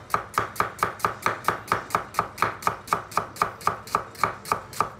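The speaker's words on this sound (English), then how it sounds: "I'm going to start with an onion. I'm just going to cut this into thin slices." A knife slices an onion into thin slices on a cutting board, a steady rhythm of about fifteen crisp, evenly spaced cuts, close and clear with no talk.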